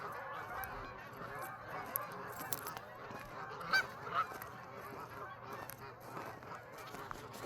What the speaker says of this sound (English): We call these birds goose.